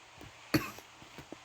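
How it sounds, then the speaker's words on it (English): A single sharp cough from a man close to the microphone, followed by a few faint throat sounds. "Again, sorry for the coughing."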